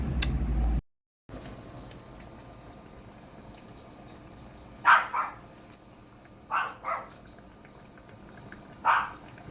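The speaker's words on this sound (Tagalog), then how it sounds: "Tumatahol." A dog barks three times at a distance, separate short yelps spaced a few seconds apart over a quiet background.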